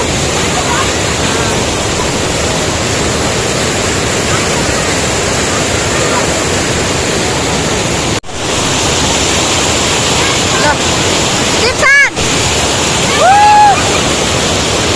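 Steady roar of water pouring at a waterfall in Rupataal, loud and continuous throughout, with brief dropouts and a faint voice near the end.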